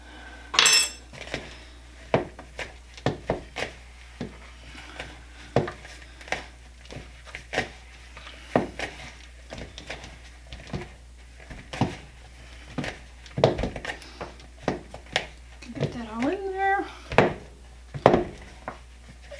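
Strawberry shortcake batter is mixed by hand in a bowl. A utensil knocks and scrapes against the bowl in sparse, quiet clinks at an uneven rhythm.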